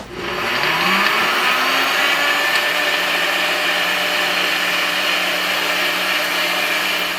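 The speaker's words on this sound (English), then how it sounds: "obviously you're gonna need some type of blender" NutriBullet blender whirring loudly as it blends water and seasoning, starting up and then holding a steady high-pitched motor whine with no pauses.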